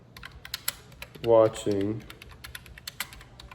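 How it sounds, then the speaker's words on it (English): Typing on an Uhuru everyday keyboard from a keyboard-and-mouse combo: crisp, close clicks tap at an irregular pace, and a voice speaks briefly midway. "We got the keyboard here. We're going to be typing."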